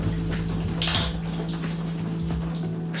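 Shower water runs steadily inside a Sprinter camper van, a continuous close hiss and splatter with a low pump hum beneath, briefly louder as the spray shifts, no voices.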